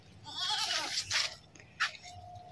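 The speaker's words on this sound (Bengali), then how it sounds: "ছাগল।" A goat gives a couple of short, wavering bleats at a village cremation ground. They come moderately close and fairly faint, with a brief crunch between them.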